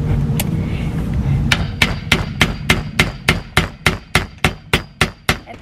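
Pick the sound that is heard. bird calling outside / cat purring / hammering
hammering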